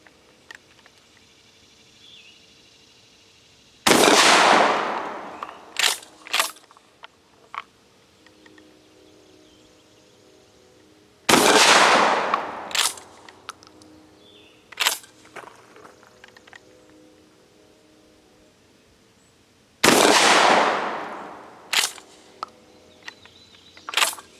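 GForce GF12 pump shotgun fired three times at spaced intervals, each a sharp loud blast with a ringing decay, followed by clacks of the pump action racking, quiet between shots.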